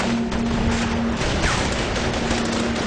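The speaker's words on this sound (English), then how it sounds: "Al-Qaeda fighters continue to return fire" Dense, continuous gunfire from a battle at an enemy bunker crackles and booms loudly without pause, shots overlapping into a rough, saturated roar.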